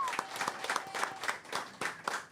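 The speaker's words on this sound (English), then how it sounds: "if everybody here can join me in a big round of applause" A small audience claps briefly at a podcast event, the individual hand strikes distinct and rhythmic, a few people clapping close by, moderately faint.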